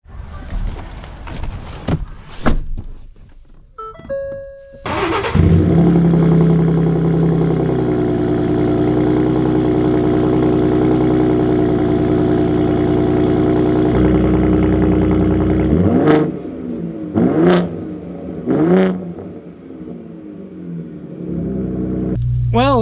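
A 2025 Ram RHO and a Ford Raptor pickup are started up and revved, giving a loud, close engine roar that holds steady for several seconds. Rumbling idle follows, then a few sharp throttle blips, with speech and clicks at the start.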